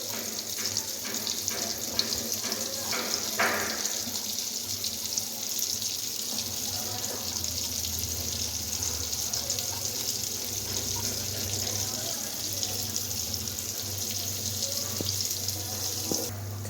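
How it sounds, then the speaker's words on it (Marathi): Brinjal slices coated in semolina fry in oil on a tava, giving a steady, close, continuous sizzling hiss with no talk. "तेल टाकलेलं आहे तव्यामध्ये. आता फ्राय करायला आपण टाकून देऊया."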